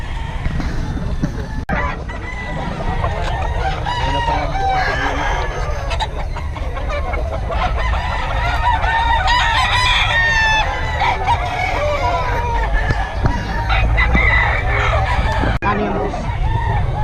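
Roosters crowing and chickens clucking at the Bocaue market, many birds calling over and across each other in a loud, continuous chorus, with people talking faintly in the background.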